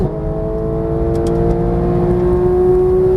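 A Porsche GT3 engine at full throttle on a track in Las Vegas, heard from inside as a loud, continuous rising drone.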